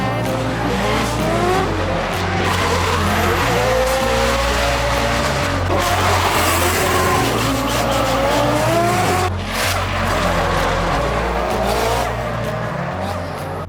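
Cars drifting at a drift event, with loud, continuous engine roar and repeated rising tire squeals that overlap throughout, close and unbroken.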